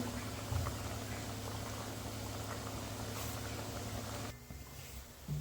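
Mathi, crispy dough snacks, frying in hot oil give a steady, dense bubbling sizzle with fine crackle throughout, dipping briefly near the end before resuming.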